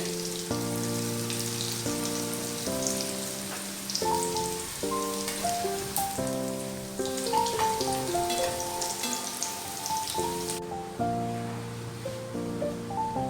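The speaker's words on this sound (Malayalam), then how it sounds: "ഇത് ഓൾറെഡി ഹാഫ് കുക്ക്ഡാണ്. അതുകൊണ്ട് 2 മിനിറ്റ് മതി ഒന്ന് ഫ്രൈ ആയിട്ട് വരാനായിട്ട്" Half-cooked potato wedges crackle and hiss in hot oil, a steady rain-like sizzle running underneath a melodic music track throughout.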